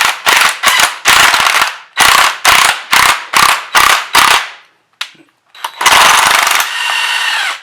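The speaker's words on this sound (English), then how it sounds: "we should be able to just kind of hit our impact here" Bursts from an impact wrench pressing a control arm bushing out of a Cadillac lowrider hammer loudly in a run of short rattling blasts, then after a brief pause one longer burst that winds down.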